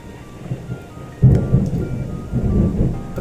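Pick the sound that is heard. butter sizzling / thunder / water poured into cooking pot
thunder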